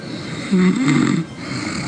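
A person snores in one loud, rumbling inhale, heard in a recording between quieter stretches of room noise.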